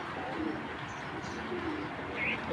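Giribaz pigeons coo softly in low, rolling murmurs over a quiet ambient background, with a brief higher chirp near the end.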